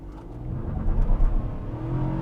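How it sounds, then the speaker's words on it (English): Kia Stonic mild hybrid with a 1 litre three-cylinder turbo petrol engine accelerating hard from a standstill, loud rising engine drone heard from inside the cabin, steady and continuous with no talk. "let's stop the car and stamp on the throttle"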